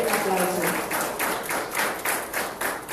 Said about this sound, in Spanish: la señora Aurora Espinal, a quien recibimos con un fuerte aplauso.